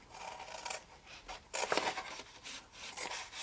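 Big scissors snip and trim a scored cardboard box, a few quiet, close crisp cuts and rubbing scrapes in short bursts with no talking.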